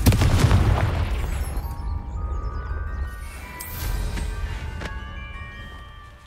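A Confringo fire spell explodes in Hogwarts Legacy, a loud booming blast at the start that rolls off into a long rumbling decay, followed by a second, weaker burst and crackling debris.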